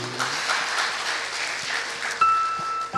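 A church congregation at a Sunday worship service breaks into cheering and clapping, a steady crowd roar that stays fairly even. A sustained electronic tone comes in near the end.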